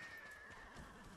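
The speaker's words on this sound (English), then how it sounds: "Hey, horsey." A horse whinnies in the video game Ghost of Tsushima, a single brief, fairly faint neigh over soft game ambience.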